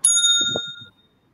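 A single small bell, rung to mark a time limit in an educators' discussion, gives one bright ding that rings out clearly and fades over about a second, with a faint soft knock beneath it.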